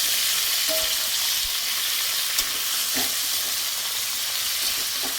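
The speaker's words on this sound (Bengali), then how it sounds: "মাংসটা ভাজা হতে থাক" Chicken sizzles steadily in a hot pan for chicken makhani, with a dense, even frying hiss and a few faint stirring clinks, close by, with no voices.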